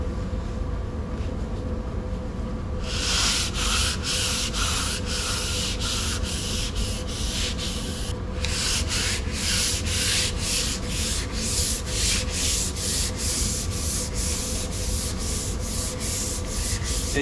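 Sandpaper is rubbed by hand over a car's rear bumper during a repaint, a rhythmic rasping scrub with evenly repeated strokes after a quieter start, close and loud, with no talking.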